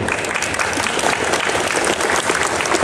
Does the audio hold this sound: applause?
yes